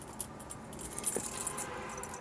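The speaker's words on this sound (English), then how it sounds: "2 sets of keys, putting the key in the ignition right now" Two sets of metal car keys jingle and rattle near at hand as a key goes into the ignition of a 1947 Ford Super Deluxe. The bright, continuous jangling lasts about two seconds with no voices.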